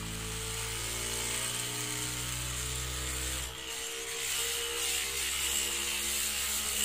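Rotor of a self-balancing gyroscope on a two-wheeled inline vehicle spinning up to 4,000-5,000 RPM, a steady loud mechanical whine and hum with stable tones throughout, briefly dipping midway.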